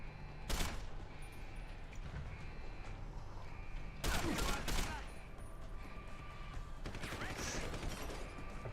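Gunfire in the video game Deus Ex: Human Revolution, shooting at gas canisters: two loud bursts of shots and impacts, the second longer, over a steady game background hum, with a faint third burst near the end.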